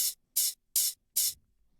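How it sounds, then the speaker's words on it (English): Four evenly spaced hi-hat hits in a steady quarter-note pulse, each a bright, airy hiss with short decay and silence between. "It's just that quarter note chug, but the hat sounds really nice."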